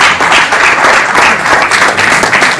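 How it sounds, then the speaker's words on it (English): Audience at a fintech and cybersecurity summit gives a loud, close round of applause for a speaker, dense steady clapping filling the whole stretch with slight surges. "A round of applause for Dr. Siawe, please."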